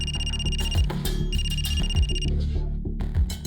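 A telephone rings in bursts of a bright electronic trill, several repeated ring pulses with short gaps, loud and close, over a low background hum.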